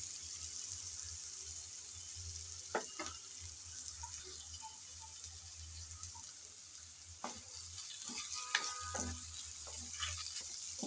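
Sliced onions fry with a little salt in a pan, giving a faint, steady sizzle over a low hum, broken by occasional soft scrapes and clicks of stirring, with no speech.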